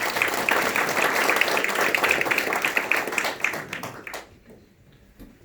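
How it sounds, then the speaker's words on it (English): A crowd at a campaign event for Arkansas State Representative candidates bursts into applause, dense steady clapping for about four seconds that then fades out quickly into near quiet. "Tony, give him a round of applause"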